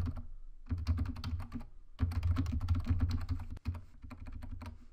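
Rapid typing on a computer keyboard, a steady close clatter of keystrokes in two bursts with a short pause between, loud and alone with no voices.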